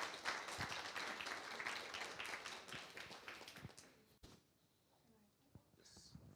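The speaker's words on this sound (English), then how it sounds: "one more round of applause to our speaker" An audience at a talk with architects claps for a speaker, a steady round of applause for about four seconds that stops abruptly, leaving quiet room tone with faint murmurs.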